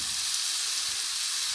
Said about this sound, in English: I'm just gonna smash this flat right on top of the hot skillet